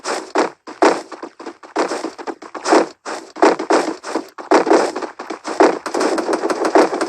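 Rapid bursts of video game gunfire, shooting in quick clusters with brief gaps between volleys, loud and close throughout.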